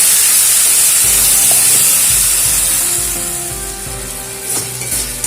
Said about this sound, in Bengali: এবারে মশলাটাকে একটু ভেজে নেব